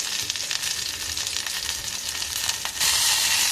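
Fresh mint leaves and washed tamarind fry in hot oil for peanut chutney, a close, steady, bright sizzle with faint stirring scrapes that surges louder near the end, and no voices.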